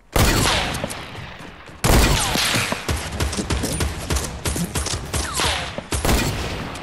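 Rapid assault rifle fire in Fortnite: dense, loud bursts of shots in quick succession, with a short pause near the two-second mark before the shooting resumes and continues steadily.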